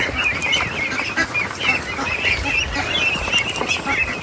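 A busy flock of ducklings chatters and quacks continuously nearby, many overlapping calls forming a dense, constant clamor.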